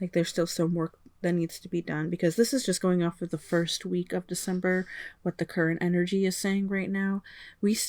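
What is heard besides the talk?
No everyday noises stand out.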